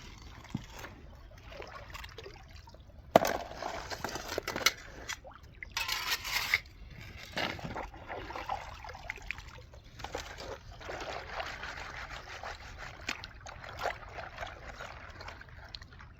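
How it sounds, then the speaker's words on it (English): Gold panning in a Wisconsin river: water sloshing and trickling through gravel in a pan, with irregular splashes and swishes and a sharper knock near the start, moderately close and no talking. "So I'm gonna do some panning right here"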